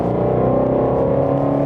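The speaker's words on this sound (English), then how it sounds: "Even inside the car, you can still hear the rumble of that exhaust." Heard from inside the cabin, a 2019 Mustang GT350 R pulls under acceleration, its exhaust a steady, deep, harmonic rumble that holds at an even level throughout, with no talking.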